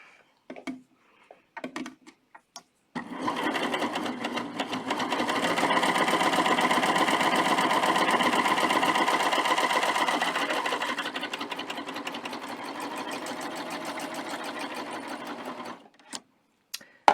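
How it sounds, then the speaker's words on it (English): A cover stitch sewing machine hems knit fabric, starting after a few light clicks and running steadily for about thirteen seconds with a fast, even mechanical whir close by, then stopping. "So I'm just going to stitch."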